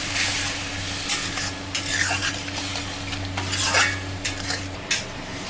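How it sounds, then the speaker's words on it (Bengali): Chickpea cooking water poured a little at a time into sizzling spice masala for chana, with steady stirring and utensil scrapes against the pan; a continuous close frying hiss runs throughout with no voices. "এবার একটু করে এই ছোলার জলটা দিয়ে দেবো অল্প করে যাতে মশলাটা পুড়ে না যায়"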